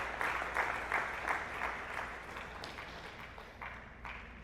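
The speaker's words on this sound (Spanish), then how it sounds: "Denle un aplauso al Señor, porque Él se lo merece" Applause rises in a church service, a moderate, fairly distant patter of many hands that gradually thins and fades, with a few lingering claps near the end.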